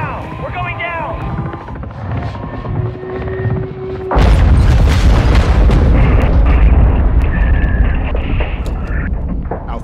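A missile explosion in the 2022 Call of Duty: Modern Warfare 2 campaign hits with a sudden loud blast partway through and becomes a dense, sustained roar of rumble and debris. It follows a stretch of helicopter-like engine noise and tones, with voices shouting in the action.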